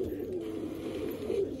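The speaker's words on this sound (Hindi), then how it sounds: "तो ये कबूतर है भाई" A pigeon coos softly in low, rolling murmurs, faint and close, with quiet background noise around it.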